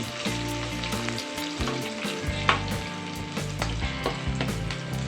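Asafoetida and curry leaves crackle and sizzle loudly in hot oil for a black dry pea curry, a continuous frying hiss with sharp spatters and a utensil stirring in the pan.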